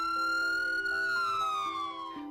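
Ambulance siren wailing close and loud, a steady rising-and-falling electronic tone that slowly drops in pitch as it passes, with no voices.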